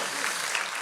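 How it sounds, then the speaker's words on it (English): A church congregation applauds, a dense steady patter of many hands clapping with no voices heard over it. "Yeah, you can clap for that."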